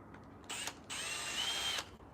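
Power drill driving screws into the wooden legs of a salvaged barn door coffee table: two short faint whirring bursts, the second longer, with brief pauses between them.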